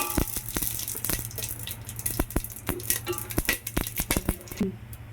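Whole biryani spices, bay leaf first, dropped into hot oil for tomato pulao: steady close sizzling crackle with many sharp pops and taps, continuous and fairly loud, with no talk over it.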